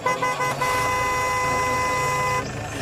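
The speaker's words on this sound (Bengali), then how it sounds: "ওরা জিপে ফিরে গিয়ে হর্ন বাজালো" A jeep horn blares in one long continuous honk, loud and close, holding steady for over two seconds before cutting off.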